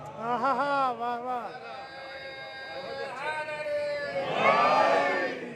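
Congregation at a Muharram majlis chanting a slogan in unison, a loud crowd of voices rising and falling in drawn-out rhythmic calls, swelling louder toward the end.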